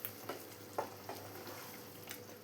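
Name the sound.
stirring peas and potato masala curry in pan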